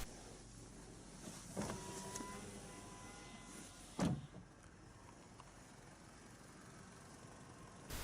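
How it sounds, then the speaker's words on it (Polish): A 2014 Opel Meriva's 1.4-litre turbocharged petrol engine idles quietly and steadily, with a couple of sharp clicks or thumps breaking the low hum. "Odpalam silnik"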